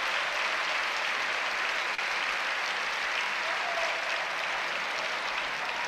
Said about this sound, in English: a standing ovation.